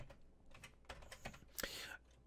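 Computer keyboard typing while entering numbers into a C program, a quick run of soft, close key clicks with a sharper burst near the end, quiet and with no voice over it.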